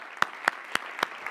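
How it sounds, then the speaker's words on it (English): A panel session audience gives a few sparse, evenly spaced hand claps, four or five distinct slaps that are fairly quiet against near silence. "let's give her a big round of applause"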